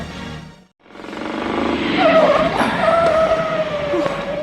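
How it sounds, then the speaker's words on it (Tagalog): A car pulls away in a TV drama scene, its engine rising with a brief tire squeal amid music and ambient noise, loud and continuous after a short gap. "Bareng makamatan tapay ti kotse na."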